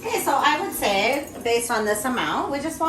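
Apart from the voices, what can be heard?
No distinct noise like a dog, phone or traffic.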